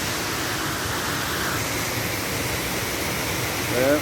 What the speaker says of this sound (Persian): پشت سر من آبشارا رو میبینیم.